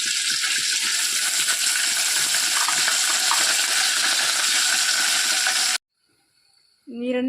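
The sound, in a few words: curry leaves added to hot oil for tempering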